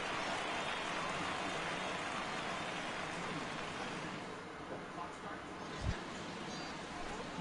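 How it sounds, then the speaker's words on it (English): Rain falling in the MLB The Show 17 baseball video game, a steady broad hiss of rainfall throughout that eases slightly toward the end, with a soft thump near the close. "Rain continues to fall here in the 6th."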